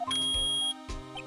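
Electronic beep from the Ace Attorney video game: a steady, bright tone held for most of a second, then a second shorter beep, with no talk.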